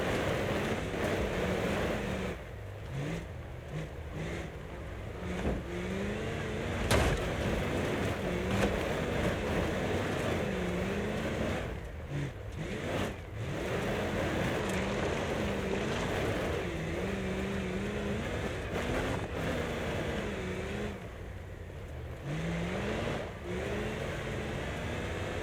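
Vehicle engine in a hill climb video game, a continuous loud droning roar with wavering pitch as the throttle rises and falls, steady throughout with brief dips.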